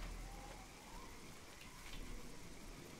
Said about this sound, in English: it's nice to see some rain as well as something else